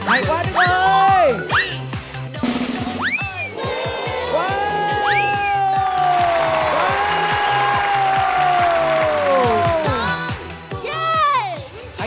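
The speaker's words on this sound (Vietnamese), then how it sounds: "Một tràng vỗ tay cho" Children in Hai Phong applaud a football juggling show, clapping steadily through a bright wash of shouting, cheering voices and tonal sounds that swell in the middle and then taper off.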